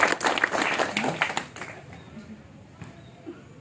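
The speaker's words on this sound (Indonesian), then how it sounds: "Tepuk tangan dong buat semua ya." An audience at a Pramuka scouting talk applauds: a short burst of clapping that is loudest at the start, then dies away after about a second and a half, leaving near quiet.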